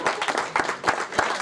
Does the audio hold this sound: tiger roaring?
no